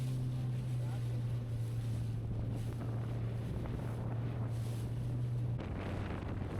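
Gusty westerly wind at sea beside a ship, a constant loud roar over a steady low engine hum from the vessel holding position, with no pauses.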